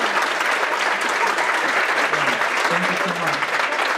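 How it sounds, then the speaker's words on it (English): An audience applauds presenters at an event, a full steady round of clapping that carries through while a voice briefly speaks over it. "let's give them a big round of applause one more time."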